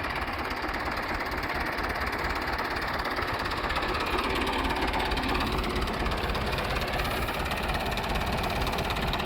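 A diesel engine idles steadily with a constant low knocking rumble, moderately loud and unbroken for several seconds.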